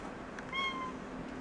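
An indoor cat lets out a single short meow, fairly clear and close, with no talking over it.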